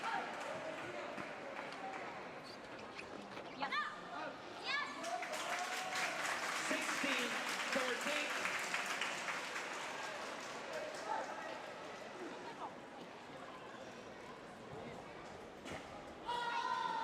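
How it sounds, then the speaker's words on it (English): A stadium audience at the Tokyo 2020 Paralympic badminton applauds its Japanese players, a sustained wash of clapping and crowd noise that swells and then fades under a commentator's voice, with shuttle hits and squeaking shoes. "You could hear the applause there from the audience and the crowd for their Japanese players."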